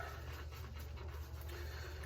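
A small dog pants softly nearby in quick, even breaths, faint against a low background hum, with no one speaking.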